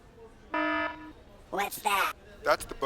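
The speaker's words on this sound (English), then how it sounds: "That's the buzzer you gotta go through again." An airport security buzzer gives one flat electronic blare of about half a second, followed by voices talking.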